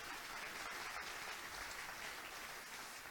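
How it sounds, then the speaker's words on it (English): A small live audience claps steadily at a marketing-themed evening event, a dense, even wash of applause with no voices over it. "Give him one more round of applause."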